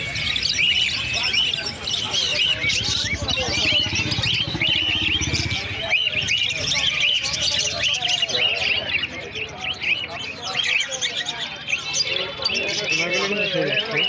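A dense, continuous chorus of many small caged birds chirping and tweeting at a large bird market in Birnagar, Nadia district, loud and close throughout, with voices and some cooing mixed into the bustle.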